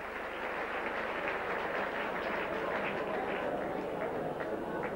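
A sympathetic round of applause from a rugby league crowd at St Helens v Leigh as injured Paul Laughlin gets back on his feet, a dense, even wash of distant clapping across the stands, sustained without pause.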